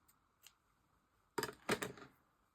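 Scissors snip through yarn ends on a stuffed gnome made on an Addi knitting machine: two close, crisp metallic cuts in quick succession, with a couple of faint handling clicks just before.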